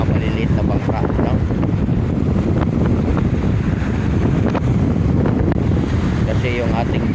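Strong wind sweeps over the sea at Manila Bay, buffeting the microphone in a loud, unbroken roar with the wash of water beneath.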